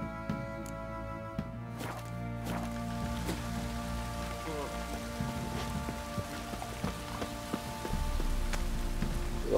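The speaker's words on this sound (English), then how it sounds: "Looks like rain." Rain falling in the video game The Witcher 3, a steady soft patter of drops under sustained game music, with the patter growing louder toward the end.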